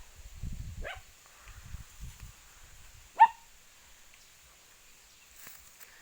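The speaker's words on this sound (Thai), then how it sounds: "มามันเห่าอะไรอะ่ะ หมาเห่าควายเหรอ" A dog gives two short, sharp barks at a buffalo a couple of seconds apart, the second louder, over faint low rumbling and quiet surroundings.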